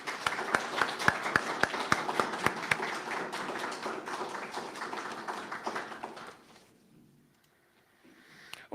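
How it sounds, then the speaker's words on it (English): An audience applauds award winners at a recreational astronomy night, a few sharp claps swelling into a moderate indoor round of clapping that fades out after about six seconds into near silence. "Ladies and gentlemen, a round of applause for the award winners."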